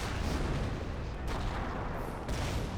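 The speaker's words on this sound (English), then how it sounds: "It should be a pretty close range barrage there." Close-range artillery barrage in the strategy game Company of Heroes, a dense continuous roar of overlapping booms and blasts throughout.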